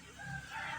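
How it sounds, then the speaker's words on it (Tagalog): A grey junglefowl rooster (abuhin labuyo) gives a short crow outdoors in the morning, a brief, faint call without talk. "Abuhin na labuyo. Nasilo ni Master Paeng."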